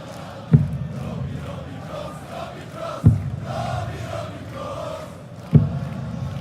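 Darts crowd at the Poland Darts Masters, a steady roar of cheering and supportive chanting from a large indoor audience, punctuated by three sharp louder bursts spaced a few seconds apart.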